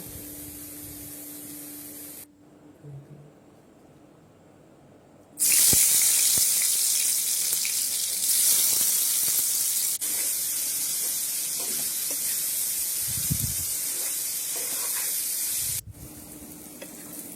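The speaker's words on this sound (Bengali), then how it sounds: "এবার কাঁঠালগুলো ভেজে নেবো" Loud, spitting sizzle of jackfruit pieces frying in oil bursts in after a quiet stretch and continues strongly, with occasional stirring clatter.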